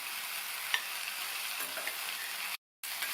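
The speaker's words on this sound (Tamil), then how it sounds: "புதினா இலைகளை இந்த மாதிரி வதக்கிக்கணும்." Fresh mint leaves sautéing lightly in a pan for a breakfast chutney: a close, even sizzle with faint stirring scrapes and one small clink, alone, cut by a short silent gap near the end.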